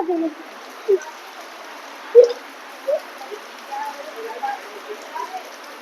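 Rain falling in a village makes a steady, soft patter on surfaces, with a few brief, faint tonal sounds rising over it now and then.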